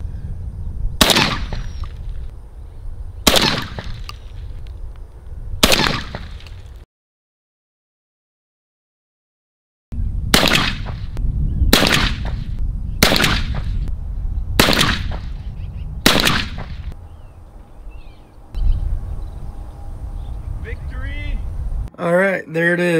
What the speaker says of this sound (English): I'm gonna do 3 shots at 20 yards.